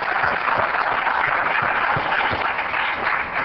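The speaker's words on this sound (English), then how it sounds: "So give them a big round of applause first." A city council chamber audience claps for youth hockey league champions from the Mite and Squirt divisions. The applause is a steady, moderately loud patter that lasts a few seconds without speech.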